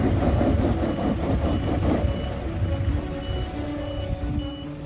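A bogged truck revs and strains under load while reversing beeps pulse rhythmically over the heavy engine rumble, all continuous and close.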